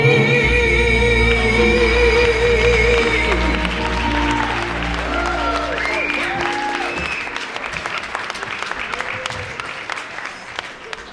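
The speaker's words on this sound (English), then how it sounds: "Let's give her another round of applause." An audience at a Black History Month celebration breaks into loud applause as a singer's gospel song ends, the clapping swelling over the final notes, then continuing as dense crackling claps that gradually thin out.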